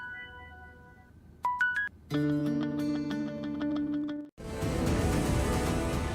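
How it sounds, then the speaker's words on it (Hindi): A telephone rings late at night with an incoming call, an electronic melodic ringtone of rising tones and layered chiming notes, loud and close, cut off before a burst of broadband noise. "अब्बा इतनी रात को फोन कर रहे हैं।"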